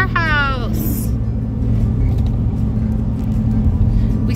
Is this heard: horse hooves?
no